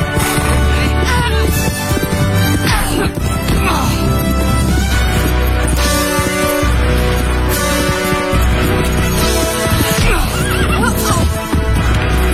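Horse neighing and whinnying in a dense, loud mix with clattering hooves and crashing action, continuous over a dozen seconds with no voices standing out.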